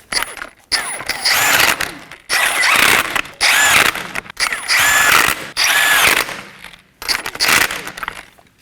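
Power tool snugging down 21mm lug nuts on a 2015-2023 Nissan Maxima 3.5L V6, loud close bursts of whirring and rattling hammering, about seven separate runs with short pauses between.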